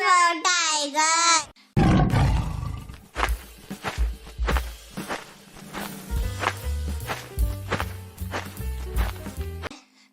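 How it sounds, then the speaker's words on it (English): A tiger's roar in a children's alphabet song opens the clip as a loud, wavering cry of about a second and a half, then gives way to bouncy music with thumping drums and bass. "T for tiger."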